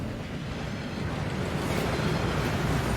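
Rushing waterfall in the Hogwarts Legacy video game, a steady dense broadband roar of falling water, continuous and fairly loud with no breaks.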